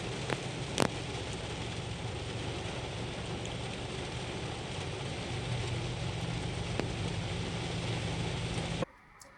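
Heavy rain pouring steadily as a dense, even hiss with occasional sharp drips and taps, a low rumble underneath, cutting off abruptly just before the end.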